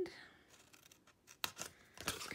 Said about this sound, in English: now take your scissors